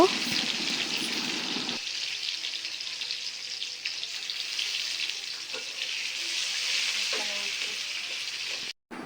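Onion and garlic sizzle and fry steadily in a pan for red amaranth greens, a dense continuous crackle that stays close and even throughout, with brief faint clatter near the start.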